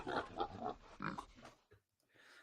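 Pig oinking sound effect: a run of grunting, snorting oinks in quick succession for about a second and a half, close and fairly loud, followed by a brief pause and a softer rustling tail.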